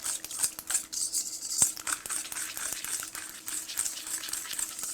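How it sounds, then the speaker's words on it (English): Vegan butter and sugar are whisked together in a bowl into a paste, giving a busy, continuous scraping and rattling with quick irregular strokes at close range. "I'm gonna whisk this"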